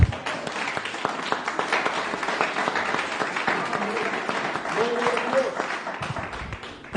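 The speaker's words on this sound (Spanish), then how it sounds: "Y luego tome asiento gritando gloria a Dios y dándole un fuerte aplauso al Señor" A church congregation applauds in a dense, sustained round of clapping lasting several seconds, with voices calling out mixed into it.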